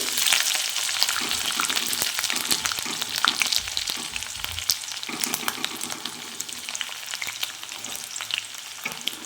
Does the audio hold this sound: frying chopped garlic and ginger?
yes